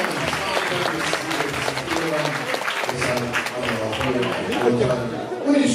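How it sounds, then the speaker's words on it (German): A crowd at a fight night in Leverkusen applauds, steady clapping from the hall running throughout with people talking and chattering over it. "Also dann nochmal Applaus für den lieben Feinsäulen."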